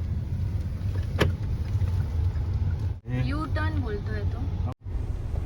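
Steady low engine rumble and road noise from inside a moving car, with a brief stretch of people talking partway through.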